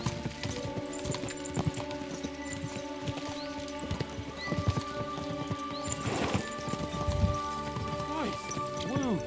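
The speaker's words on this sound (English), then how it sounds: "We should spur the horses on." Horses galloping in Kingdom Come: Deliverance II, a steady run of hoofbeats with an occasional whinny, heard under people talking.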